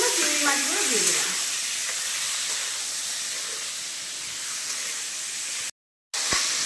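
Prawns coated in salt and turmeric sizzle in a pan with onions and potato pieces, making a loud, continuous hiss close by. A voice talks briefly at the start, and the sound cuts out for a moment near the end.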